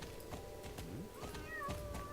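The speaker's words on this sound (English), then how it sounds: "And he just meowed like a cat." A cat meows a couple of times in the video game Star Stable Online, short rising mews over a quiet background with soft thumping steps.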